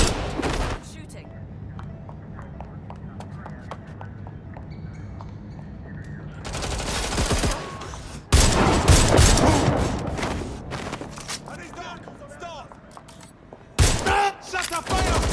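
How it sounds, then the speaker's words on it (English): Gunfire breaks out in the Watch Dogs: Legion video game, with dense, booming volleys and rapid bursts crackling over a steady low background rumble and fading in and out across the scene. "Shooting."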